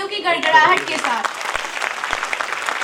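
A voice speaks briefly in Hindi, then a crowd at a school annual function breaks into sustained clapping and applause that continues to the end.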